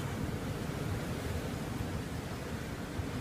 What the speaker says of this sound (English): that's when it really pushes, and that's when the waves come through